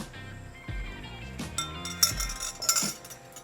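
A cinnamon Old Fashioned with ice cubes is poured back into a glass, giving several sharp, close clinks and rattles of ice against glass in quick irregular bursts.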